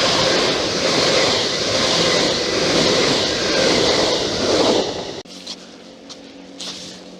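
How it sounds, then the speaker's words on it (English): A Great Western Railway train on the coastal line between Dawlish Warren and Teignmouth roars past close by with a loud, sustained rush. It cuts off abruptly near the end, leaving quieter outdoor ambience with faint brief sounds. "Then there are the Great Western Railway trains."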